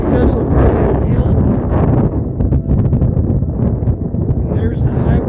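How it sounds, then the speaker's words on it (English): Strong wind roars and buffets against the microphone on an open hiking trail near a wind farm, loud and continuous with gusty swells and fluttering, drowning out other sound. "Might be a little bit windy"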